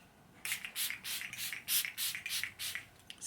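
A handheld spray bottle gives around nine quick, hissing spritzes in an uneven rhythm, close and fairly loud, in a quiet room with no talking.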